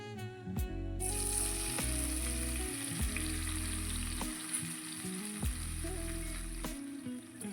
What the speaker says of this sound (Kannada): ಎಣ್ಣೆಯಲ್ಲಿ ಸೇರಿಸ್ಕೊಂಡು ಹುರ್ಕೊಳ್ಳೋಣ.